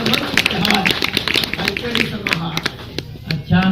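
Audience clapping at a Hindi comic poetry recital, a burst of hand claps mixed with crowd voices and talk, fairly close and uneven in rhythm.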